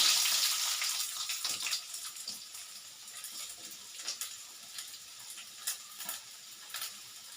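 Water running or being poured in a home kitchen while cooking Tamil potato kulambu, a soft continuous splashing flow that starts louder and settles into a quieter trickle with small clinks, no talking.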